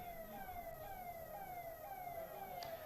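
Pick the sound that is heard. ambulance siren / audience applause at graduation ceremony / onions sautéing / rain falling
ambulance siren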